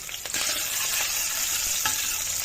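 Garlic, dried red chilies, curry leaves and onion pieces fry in a pan for pappu charu, giving a loud, continuous crackling sizzle with faint stirring scrapes.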